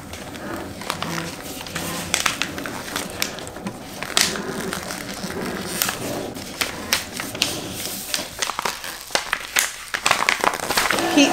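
Heat transfer vinyl being weeded by hand from a 3D puff and glitter sweatshirt design, giving dense crinkly crackles and small peeling snaps close up, steady across the whole stretch with no talking.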